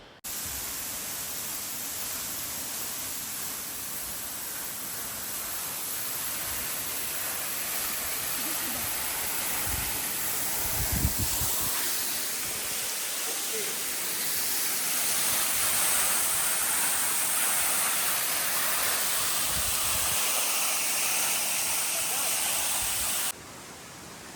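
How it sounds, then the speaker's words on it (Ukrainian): El Salto de la Novia waterfall on the Palancia river in Spain, where water drops about 30 metres into a small pool, makes a steady broadband roar that holds throughout before cutting off near the end. "Вода падає з високої скелі приблизно на 30 метрів, утворюючи внизу невелике озеро з кришталево чистою водою"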